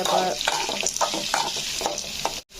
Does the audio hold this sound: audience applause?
no